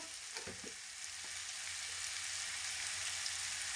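A pot of chickpea and potato rice with salt sizzles steadily, with a couple of faint scraping stir strokes near the start over a continuous hiss. No one speaks.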